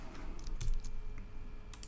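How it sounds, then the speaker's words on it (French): Keys pressed on a Mac keyboard for the Command H shortcut in Photoshop, a handful of light clicks and taps over a steady background hum, with no speech. "si on essaye le raccourci clavier, commande H"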